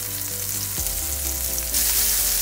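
Onion slices sizzle in rendered pork fat in a cast iron pan, a loud, constant frying hiss over a low droning hum. The sizzle brightens and intensifies toward the end.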